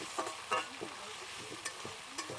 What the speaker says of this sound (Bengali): এগুলো ভাজা ভাজা করে নেবো।